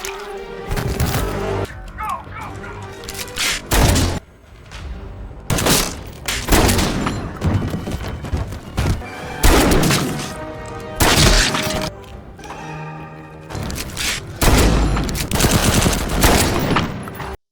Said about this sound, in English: Nearly every shot she fires hits its target.